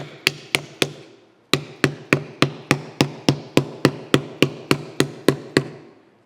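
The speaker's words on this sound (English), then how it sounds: "I'm going to take a hammer. Just kind of drive that in there." A hammer drives a wooden wedge into a gap in a wooden pattern with about eighteen sharp, ringing blows. After the first three strikes comes a short pause, then the blows land in a quick, even rhythm, each one loud and close.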